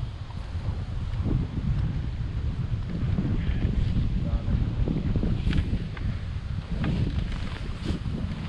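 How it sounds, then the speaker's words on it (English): Heavy wind buffets the microphone on a fishing boat out after fall muskies, a constant low rumble with water sloshing beneath it. "Sorry about the wind."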